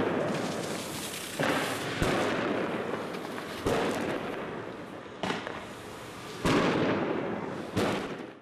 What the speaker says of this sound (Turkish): Dakikalar sonra taşlar, havai fişekler ve ses bombaları atıldı.